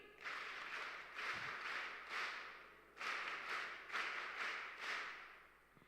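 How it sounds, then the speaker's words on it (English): An audience at a women's federation launch in Port Vila, Vanuatu gives rhythmic power claps, repeated bursts of crowd clapping in a steady beat, fairly distant. "Give yourselves a huge power clap"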